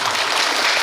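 A school audience at an information session for Onyang Hanol High School claps in a dense, loud burst of applause, continuous throughout the brief moment with no talking.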